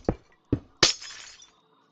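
Glass blocks placed one after another in Minecraft, three sharp clinking taps close together with the last ringing into a brief glassy shatter-like tail, loud and with no voices.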